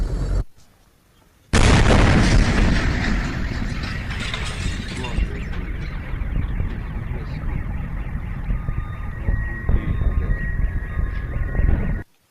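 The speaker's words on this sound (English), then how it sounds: "those sounds, those explosions were the meteor exploding" A meteor explodes high above the Earth, a sudden loud boom after a brief quiet, then a long rolling, crackling rumble that slowly fades over many seconds.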